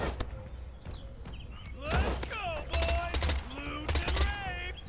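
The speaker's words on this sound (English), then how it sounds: "I don't like the sound of the gun he's got. It sounds scary." Gunfire in the multiplayer shooter STALKER: Pioner, a handful of sharp shots and short bursts ringing out over a few seconds, mixed with thumps and other game noise, with a voice talking faintly underneath.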